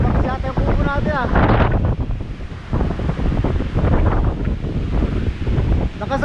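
Powerful seaside wind rumbles and buffets the microphone without letup, surf surging beneath it, while someone speaks through the gusts.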